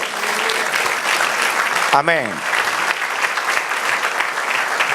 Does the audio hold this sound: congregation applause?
yes